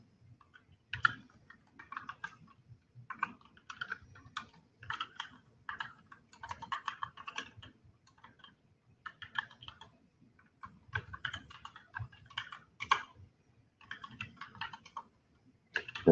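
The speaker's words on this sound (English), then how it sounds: "So we're going to type API router" Code being typed on a computer keyboard during a Node.js coding workshop: bursts of close, rapid key clicks with short pauses between words, steady and unaccompanied by talk.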